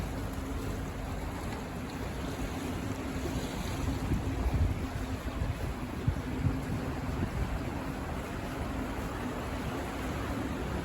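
Steady rushing water flowing fast, a continuous broadband roar with some wind buffeting the microphone throughout.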